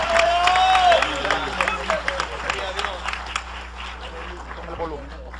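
A church congregation claps in praise during a worship service, a dense burst of applause mixed with crowd voices that fades into scattered claps under continuing speech.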